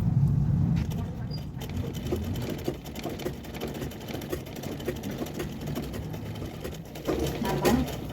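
A sewing machine runs steadily while stitching a princess cut blouse, a continuous close mechanical whir with a heavier burst at the start and another near the end.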